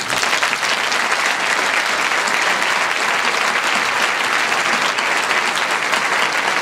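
Sustained, dense applause from a concert audience fills the space after a singer dedicates a song, loud and even throughout with no talking on top.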